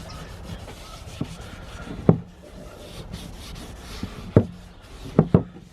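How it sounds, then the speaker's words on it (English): Vegetable oil being rubbed onto a metal garden tool blade up to its wooden handle, soft close rubbing strokes broken by a few sharp scrapes and knocks, no talk. "And then just rub the vegetable oil on."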